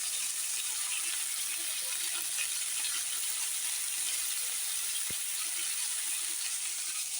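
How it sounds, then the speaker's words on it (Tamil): Pan-sautéing of curry leaves, green chillies, coriander leaves and tamarind for a brahmi-greens chutney gives a steady, even sizzle that hisses continuously throughout, with one brief sharp tick partway through. "எல்லாத்தையும் நம்ம அப்படியே போட்டு நல்லா வதக்கணும்."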